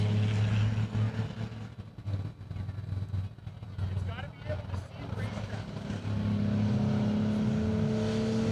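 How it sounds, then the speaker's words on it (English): A red minivan races around a high-banked speedway during time trials, its engine droning with steady low tones that dip and return, while a commentator talks over it throughout. "it's great to see that beautiful red minivan here tearing up the high banks"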